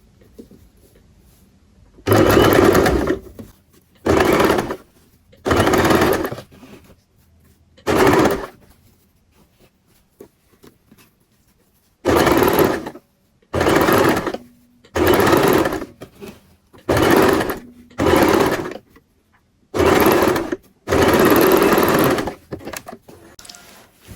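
A sewing machine stitching the side pocket of men's trousers runs in about a dozen separate bursts of rapid mechanical whirring, each lasting one to two seconds and separated by short quiet pauses.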